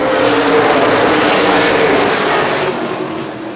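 ARCA/CRA Super Series race cars roar together at the green flag at Baer Field Speedway, a loud, dense, sustained engine blare that drops slightly near the end, with no talk.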